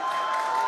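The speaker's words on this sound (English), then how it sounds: "you can hear the crowd is very excited about it" Broad, steady roar of a large excited crowd at a Starship rocket flight test, a short continuous wash of cheering and applause with no talk.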